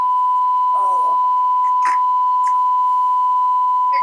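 Emergency alert system tone, a single steady electronic beep held loud and unbroken throughout, with brief voices talking faintly over it.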